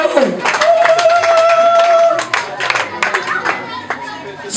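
Audience at a school cultural day applauding, dense uneven clapping with crowd noise, fairly loud and near, while a voice speaks over it and a sustained tone sounds early on.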